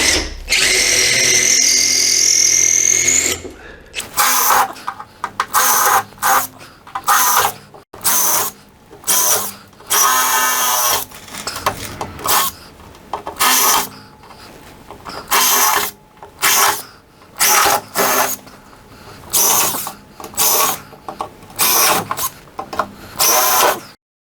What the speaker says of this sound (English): the first step will be getting a drill and drilling all those rivets out.